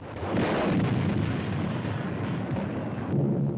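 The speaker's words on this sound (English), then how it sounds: "This, the first mass bombing from the air of a helpless civilian population." Aerial bombing explosions over Shanghai in September 1937 roll out as a loud, sustained rumbling blast, with a heavy low boom swelling and continuing without pause.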